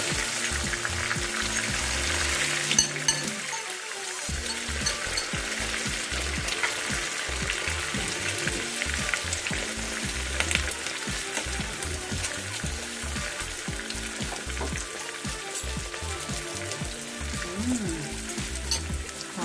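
Wild garlic frying in hot oil, a steady, loud sizzle and crackle running throughout with some stirring and clatter in the pan, no voices.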